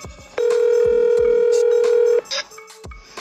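A telephone call ringing: a loud, steady ring tone of about two seconds, followed by a short clicking connection sound.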